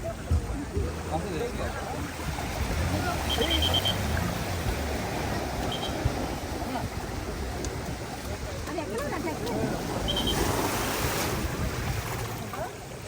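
Boat ride on open water with waves, a constant rushing wash of water and wind buffeting the microphone, steady and fairly loud throughout, with brief faint tones and a voice at times.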